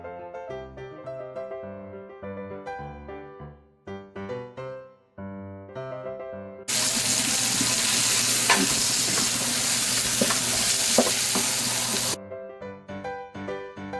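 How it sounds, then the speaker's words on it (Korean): Lamb pieces sizzling loudly in a pan as soy sauce and oyster sauce are stirred in, a dense hissing fry lasting several seconds, with music playing before and after. "간장과 굴소스를 넣고 섞어주세요."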